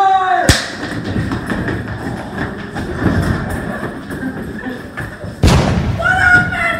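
Two sharp gunshot effects go off in an amateur school drama film, one near the start and one a few seconds later. Each is loud and abrupt, with voices talking in between and after.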